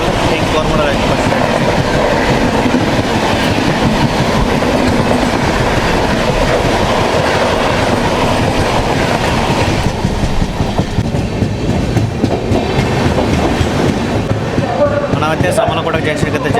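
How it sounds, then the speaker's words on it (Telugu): The Coromandel Express, running Howrah to MGR Chennai Central, roars past close by with continuous loud rumble and clattering wheels for the whole stretch. "Howrah MGR general central king Coromandel express"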